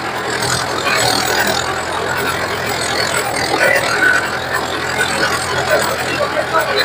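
A second-hand tractor's engine runs steadily nearby, a rough continuous rumble with slight surges, with no clear speech.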